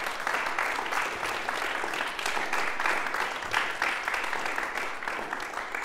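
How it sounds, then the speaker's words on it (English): An audience at a lecture recital on electronic music claps for the sound technicians in the booth, producing a continuous, fairly loud patter of many hands that holds evenly throughout. "Please clap for them."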